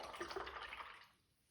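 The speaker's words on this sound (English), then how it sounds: "Wash your brush when you've finished." A paintbrush swished and rinsed in a jar of clean water after watercolour painting, giving soft close sloshing and trickling that fades to near quiet after about a second.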